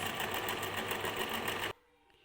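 A sewing machine stitches dress sleeves with a fast, even whirring hum close by, running steadily before stopping abruptly and leaving a quiet room.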